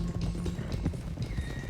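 Horses' hooves clopping in Red Dead Redemption 2, a steady galloping rhythm over a low rumbling bed, mid-distance and continuous, with no voices.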